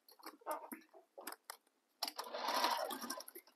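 A home sewing machine bastes a tote bag panel to the edge of a zipper, giving short stop-start bursts of stitching followed by a longer steady run, close and moderately quiet.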